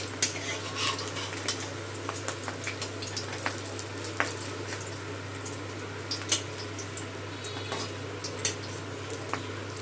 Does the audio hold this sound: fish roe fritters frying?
yes